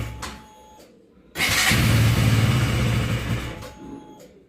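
A KTM Duke 200 motorcycle engine, held revved to keep it from stalling, roars up abruptly and holds a loud, close, sustained rev for a couple of seconds before easing down; faint clicks and ticks precede it.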